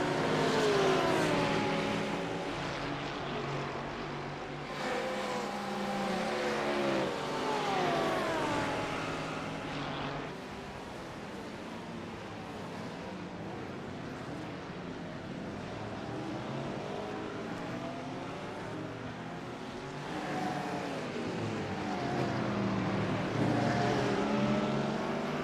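A Lamborghini race car in the iRacing sim races on, its engine note rising and falling in repeated gear-change sweeps, with other cars droning alongside and no voices.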